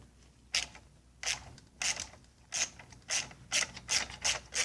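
A ratchet wrench clicks in short, repeated bursts while loosening a bolt on a 9.9/15 HP outboard motor, each stroke a crisp close rattle, the pulls coming faster toward the end.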